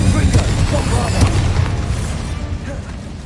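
Booming spell explosions from the video game Hogwarts Legacy on PS5, with several loud bursts and rumbling impacts in quick succession under a dense game soundscape.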